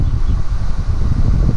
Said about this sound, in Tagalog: Dito mahangin.